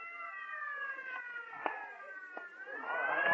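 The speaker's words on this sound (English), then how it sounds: "Clear the way for the ambulance." A wailing siren effect for an ambulance in an old-time radio detective drama, sustained rising and falling tones over the whole stretch with a few brief knocks and rising noise at the end, no voices.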